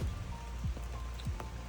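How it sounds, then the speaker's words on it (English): Rain patters steadily outside at an old estate carp fishing lake, a continuous soft hiss with scattered drips, fairly quiet, with no voices. "Raining again out there."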